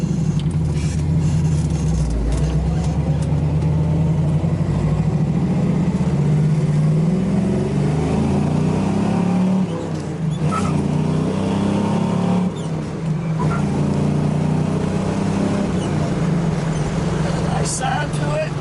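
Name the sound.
1970 Chevrolet Camaro Z28 engine revving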